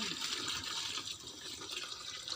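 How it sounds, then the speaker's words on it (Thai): Soup broth is poured into a pot for Thai coconut-milk rice noodles (mee kati), a continuous close splashing pour of liquid that lasts throughout. "เราก็สิเทน้ำซุปลงไป"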